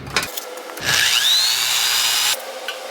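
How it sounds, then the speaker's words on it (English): A power drill boring holes in a metal side cover for a Honda CB500F custom motorcycle, one short, loud burst with a rising whine, close by in a workshop. "I mark those holes and then I can drill them out."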